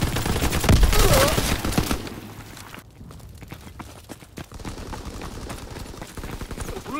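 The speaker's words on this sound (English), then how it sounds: "Fighter pilot inbound. Strafing the target." Rapid strafing gunfire from a fighter plane in a video game, a loud dense burst of shots at the start that gives way to quieter scattered reports and background battle noise.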